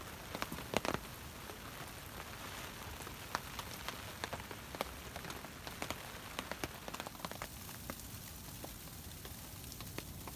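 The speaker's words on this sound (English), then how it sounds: "There's the sleet." Sleet falls steadily during a stormy night of solo hammock camping, producing a dense, even patter with frequent sharp ticks of pellets striking nearby surfaces.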